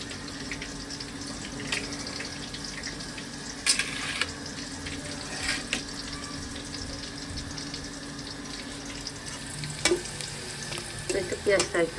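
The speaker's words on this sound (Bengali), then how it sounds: "একটু পেঁয়াজটা একটু ভাজা হবে।" Onion frying in oil with cinnamon and cardamom makes a continuous sizzle, with occasional sharp clinks and scrapes of stirring in the pan; no one speaks.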